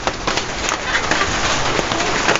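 Steady rain pattering on a surface, a dense broadband hiss with scattered sharper drops, fairly close and constant throughout.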